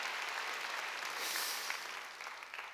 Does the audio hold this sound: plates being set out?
no